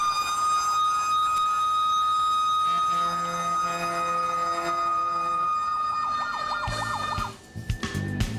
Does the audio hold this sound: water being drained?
no